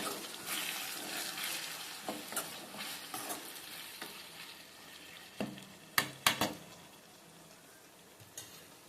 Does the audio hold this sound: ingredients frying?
yes